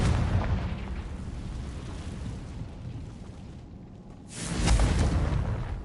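A Confringo blasting spell explodes in Hogwarts Legacy, a rumbling roar that dips briefly and then bursts into a loud, booming blast near the end.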